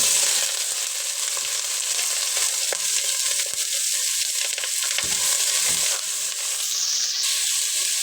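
Onions with a bay leaf frying in a pan for chicken curry, a dense, steady close sizzle with occasional soft stirring scrapes and no talking.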